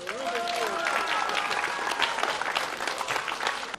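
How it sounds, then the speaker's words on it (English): Audience applause at a children's science show, a dense steady patter of clapping with some voices mixed in, close and moderately loud throughout. "How about a round of applause?"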